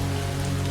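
Steady rain in Far From Noise, a dense, even hiss of falling drops with a low rumble underneath, constant and unbroken.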